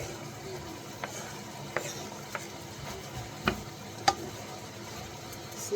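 Onion and garlic sautéing in a pan for ground meat with mashed potatoes, a quiet steady sizzle broken by scattered light spatula taps and clicks over several seconds.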